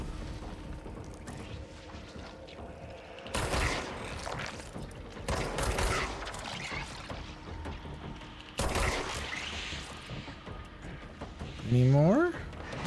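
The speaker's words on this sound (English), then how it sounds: "Who is shooting me?" Gunfire in a video game strikes at the player in several separate bursts, mechanical clacks amid the shots, with a voice talking quietly throughout.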